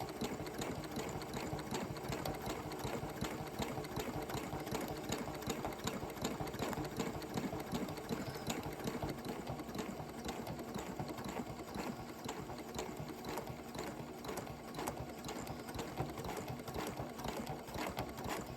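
A sewing machine stitches free motion machine embroidery at a fast pace, its needle producing a rapid, continuous mechanical chatter that stays steady and close throughout.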